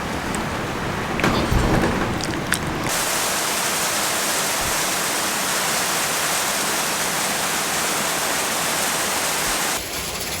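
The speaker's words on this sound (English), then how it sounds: "So the hail has been going for about 30 minutes on and off." Hail falling hard outdoors during a storm, a dense, loud, continuous hiss of pellets striking surfaces with a rumbling undertone and a few sharper impacts early on, no voices.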